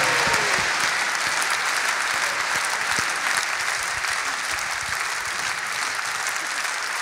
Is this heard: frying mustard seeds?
no